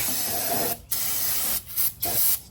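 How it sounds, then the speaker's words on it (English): Three bursts of carburetor and choke cleaner aerosol spray hiss, a long steady blast followed by two shorter ones with brief gaps, close and fairly loud, during head gasket work on a Briggs and Stratton engine of a John Deere riding mower. "I'm going to also use some of this gum out carb and choke cleaner spray."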